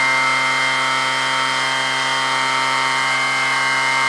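Arduino-controlled double-stacked mini rotors on a dual-pole rig spin at high RPM, giving a steady, loud, whining hum with layered tonal harmonics that holds evenly throughout, with no talk.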